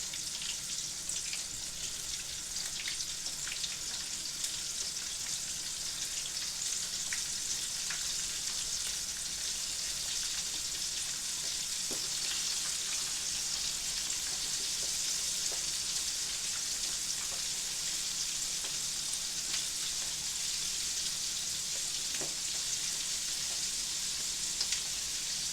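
Chicken wings fry in a pan with a steady, fairly quiet sizzle and faint crackles running continuously, with no voices.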